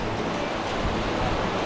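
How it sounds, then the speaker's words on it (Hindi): A river rushing beneath a suspension bridge near Paro in Bhutan's hills, a brief, steady, dense roar of flowing water heard from above, with no speech. "नदी बह रही है।"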